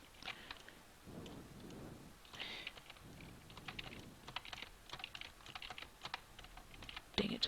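Computer keyboard typing while editing keyframes in animation software, quiet and close, with scattered soft key clicks and occasional firmer taps; no speech.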